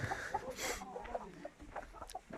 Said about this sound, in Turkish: yavrularımız horozlarımız yerde.